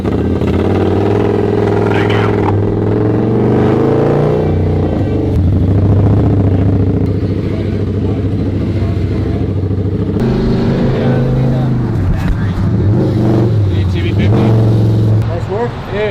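A custom Indian Scout motorcycle engine revs nearby with a raspy, rising and falling roar over a rumbling idle, several throttle blips across the stretch, while people talk and exclaim over it.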